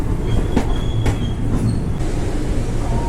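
Shalimar to Madgaon train rolling slowly near Dudhsagar Falls, a loud close rumble of wheels and carriages with a few sharp metallic clicks and faint squeals.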